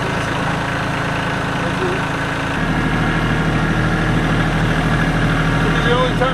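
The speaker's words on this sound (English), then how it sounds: "Thank you, tractor. Yes. Tractor makes life easy." A tractor engine idles with a steady low rumble and vibration, holding constant throughout with a slight shift in pitch partway through.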